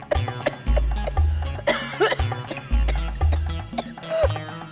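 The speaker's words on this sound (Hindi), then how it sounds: "आप ऐसे खांस क्यों रहे हो?" A man coughs hard and repeatedly at a family dinner table, choking on food caught in his throat. The sharp coughs burst out over steady background music.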